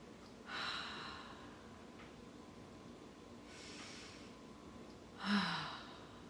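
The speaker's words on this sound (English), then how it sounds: "Deep inhale through the nose, exhale out the mouth." Two soft breaths sound during a quiet yoga session: a faint airy inhale, then a longer exhale with a slight hum at the end, each standing alone against low room hiss.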